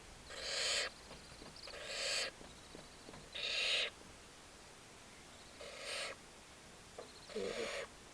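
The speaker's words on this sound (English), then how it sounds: "That harsh rasping call is a begging call." A baby barn owl gives harsh, rasping begging calls, five hissing bursts spaced about a second or more apart, close and fairly loud with quiet gaps between them.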